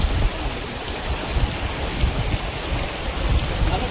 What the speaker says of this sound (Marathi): दोन्ही बाजूने झरझर झरा आहे, तो हाच